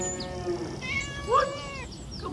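Farm cats meow several times in a row, one clear drawn-out cry swelling in the middle among shorter calls, close by and with no talk over them.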